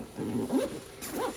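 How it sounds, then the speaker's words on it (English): Zipper on a Chess Gorilla chess bag being drawn, a couple of quiet rasping zips with short pauses, close but soft against a faint background. "these zippers are just fantastic"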